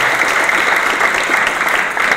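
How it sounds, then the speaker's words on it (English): Loud, steady applause from an audience at a CIO leadership award event, honouring the finalists, with dense continuous clapping throughout. "I'd like to have a round of applause for the other finalists."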